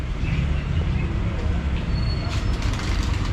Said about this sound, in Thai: ตรงนี้ก็จะเป็นชานชลา นั่งรอรถไฟนะครับ